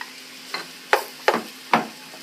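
Chopped onion, celery and garlic land in a pan of cooking carrots as four short, sharp bursts of sizzle and clatter, each fading quickly over a quiet background hiss.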